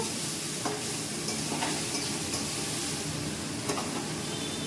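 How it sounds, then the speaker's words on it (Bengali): Potato and pumpkin fry in a pan with a little chickpea, a steady close sizzle with occasional stirring scrapes, no voices. "আলু আর কুমড়োটাকে একটু ভেজে নিচ্ছি একটু।"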